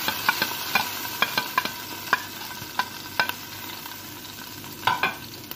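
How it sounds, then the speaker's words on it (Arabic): Garlic stirred briskly in a frying pan as a base for white beans with vermicelli rice, a bright close sizzle punctuated by sharp ticks of a utensil scraping the pan, no speech. "شوي نقلبه، ما تخلونه ياخذ لون، بس يشم لازم يكون ابيض الثوم"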